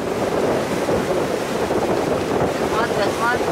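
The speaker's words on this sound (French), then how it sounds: "il y a du vent qui s'infiltre dedans et on va se prendre des petites rafales" Wind gusts across a sailboat under way in about 10 knots of breeze, sailing between Martinique, Dominica and Guadeloupe, with a steady loud roar of wind and rushing water that does not let up.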